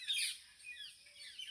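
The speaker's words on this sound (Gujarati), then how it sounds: "પોપટ ચકલા કાગડા બગલા" Parrots, sparrows, crows and herons beside a large lake, heard as faint, thin high chirps and tweets that come and go through soft background noise at a distance, with no talking.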